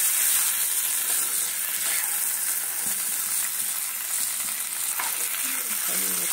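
Prawns frying in hot oil for a Bengali prawn malai curry give a steady, close, continuous sizzle with faint stirring, and no voices are heard.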